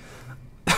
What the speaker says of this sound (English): That cough just completely came out of nowhere